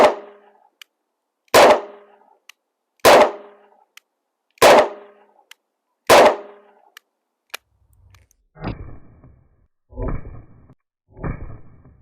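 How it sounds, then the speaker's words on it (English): A Smith & Wesson 442 J-frame revolver fires SIG ammunition at an outdoor range: five sharp, loud reports spaced about a second and a half apart, each with a short decaying tail, followed by three duller thumps. "let's go ahead and shoot this 442 with that SIG ammunition"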